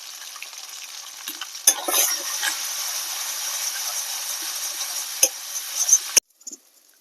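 Ginger, cumin and green chilli sizzle in hot oil as turmeric is stirred in for a fish curry, a close steady frying hiss with spoon scrapes and clinks that stops abruptly near the end.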